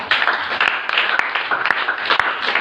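A church congregation applauding during a sermon, a dense burst of many hands clapping close and loud for a few seconds, with a few sharper individual claps standing out.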